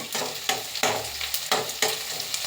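Green chilies and onions sizzle in a hot pan as they fry, with several sharp stirring scrapes breaking through the steady crackle; no voices.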